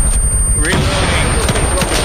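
Sustained machine-gun fire from an MG-42 in an Arma 3 World War II battle for Berlin, a dense, continuous rattle of shots mixed with distant booms and shouting voices throughout.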